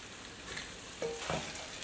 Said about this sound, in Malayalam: ഇനി നമുക്ക് ഇതിലേക്ക് കുറച്ച് കറിവേപ്പില ഇട്ട് കൊടുക്കാം.